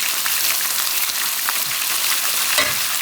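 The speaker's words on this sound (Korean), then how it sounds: "이렇게 두고 고기가 노릇노릇 익을 때까지 기다려 볼게요" Chicken pieces pan-frying until golden, a loud, dense and continuous sizzle with fine crackling spatter, close by and unbroken, with no voices.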